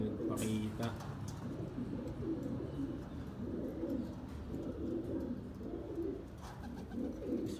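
Pigeons cooing in repeated soft, low throaty phrases close by, with someone talking over them for much of the time.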